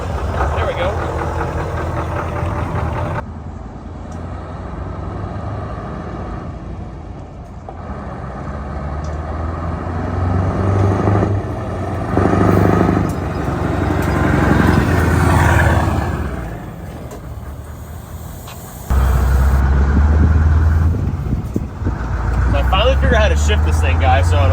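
A Scania cabover truck's engine rumbles steadily close by, surging and settling as the driver works the gears, with someone talking over it throughout.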